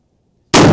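A single loud muzzleloader rifle shot at an outdoor range bursts in suddenly after half a second of silence and booms on to the end.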